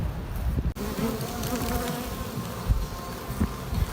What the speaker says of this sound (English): This is a happy colony of bees.